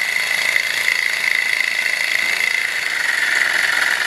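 A gamma-type walking beam Stirling engine driving a generator runs with an out-of-balance flywheel, making a steady, loud, rattling whir with a bright high-pitched buzz for about four seconds, with no voices.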